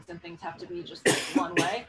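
A man mid-sentence breaks into two sharp, close coughs in quick succession, loud against his speech during a programming talk.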